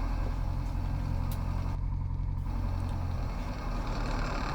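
A light aircraft's engine drones steadily at full power with the brakes held at the runway threshold before a short-field takeoff, a loud, low, continuous roar with a slight dip late on.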